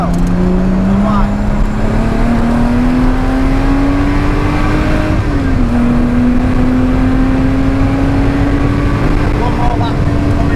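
A race car at Oulton Park drives under steady, loud engine drone, its pitch climbing gradually through the gears with one brief dip, while a driving coach talks over it.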